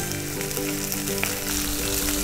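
Chicken sizzles steadily in a hot frying pan with olive oil, a constant crackling hiss close up with faint scattered pops and no talking.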